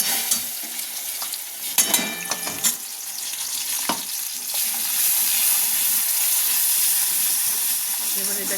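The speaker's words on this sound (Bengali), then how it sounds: "টমেটো আর লঙ্কা পেস্ট করে এবার তেলের মধ্যে দিয়ে দিতে হবে।" Tomato and chilli paste frying in hot oil while being stirred, a steady close sizzle and hiss that swells louder in the second half, with scraping stir clatters early on.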